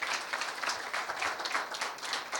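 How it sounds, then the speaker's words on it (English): Steady audience applause at a national conference on the Indian Knowledge System, dense continuous clapping from a large crowd, fairly loud and unbroken with no speech. "Please give a round of applause for our honorable guest."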